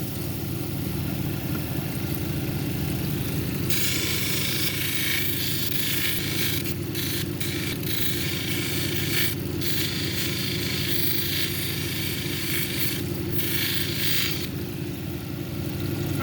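Red velvet agate cabochon ground on a 280 grit wheel, a steady close whirring motor hum with a bright gritty hiss that comes and goes as the stone meets the wheel, continuous and without talk.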